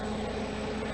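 A Fairey Rotodyne compound rotorcraft passes by, a steady, droning engine and rotor roar held at an even, moderately loud level throughout, heard alone.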